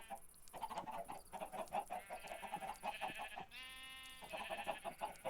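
Chickens clucking in the video game Ancient Kingdoms 3, a busy run of short, choppy farmyard calls repeating steadily with bleat-like cries mixed in, with no talk over them.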